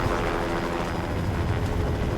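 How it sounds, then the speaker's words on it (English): Helicopter close overhead, a loud, dense, continuous rotor and engine roar that stays steady throughout with no other sound breaking through. "There was a helicopter that we could hear that was getting closer and closer and closer,"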